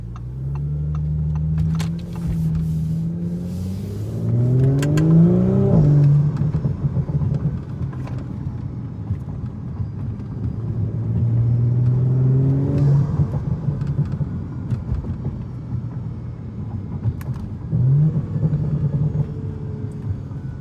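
A 476 hp Audi S4 engine revs and accelerates through several quick paddle-shifted gear changes, each shift marked by a brief drop in pitch and a blow-off whoosh, with a loud rumbling exhaust throughout.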